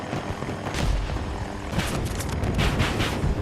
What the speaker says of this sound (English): how to fly helicopters in Battlefield 2042